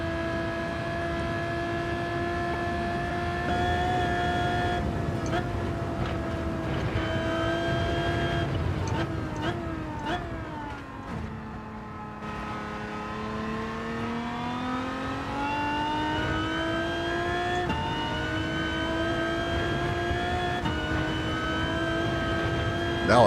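A game car engine at the Nürburgring hums and revs at a high pitch, dipping and climbing through gear changes, loud and continuous for the whole stretch.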